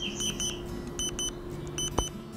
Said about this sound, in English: almost immediately the air monitor started beeping